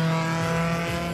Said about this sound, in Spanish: aquí ya incrementó la velocidad, el sonido del motor.